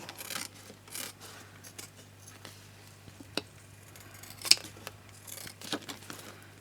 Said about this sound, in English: I just need to trim out the tag like so.